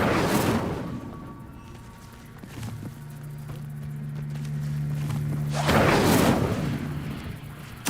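The Incendio fire spell cast in the video game Hogwarts Legacy, a whooshing burst of flame at the start and another roaring flare near the end, with a low humming drone between them and no talking.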